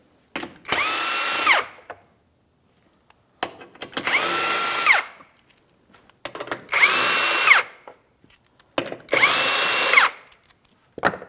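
A power tool drives out the 15mm splash shield mounting bolts on a GMC Sierra 2500 HD, four separate whirring bursts of about a second each, separated by short pauses, loud and close.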